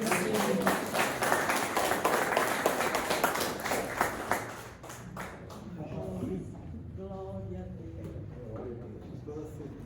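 A church congregation claps in rhythm during a family worship service, the loud, dense claps dominating the first half before fading as a voice carries on speaking and singing.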